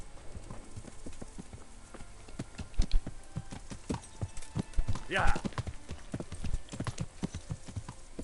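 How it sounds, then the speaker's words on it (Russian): Horse hooves clip-clop steadily in the medieval video game Kingdom Come: Deliverance, a regular rhythmic clatter of moderate loudness, with a brief whinny-like call midway and people talking over it. "А, кстати, лошадь."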